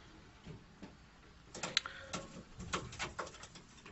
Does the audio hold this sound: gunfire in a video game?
no